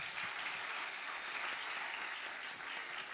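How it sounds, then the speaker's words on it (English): An audience at a university conclave in Dubai claps in a steady, even round of applause, a dense wash that stays level and fairly soft throughout. "And can we have a big round of applause?"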